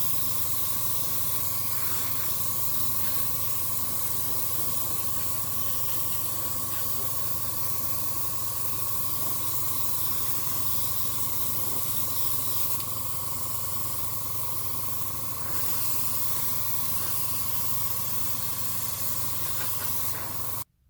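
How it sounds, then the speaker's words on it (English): Airbrush spraying Vallejo matte varnish over an AMT USS Enterprise model kit, a steady close hiss running unbroken for about twenty seconds with a constant compressor hum underneath. "seal everything in with a final coat of Vallejo's matte varnish"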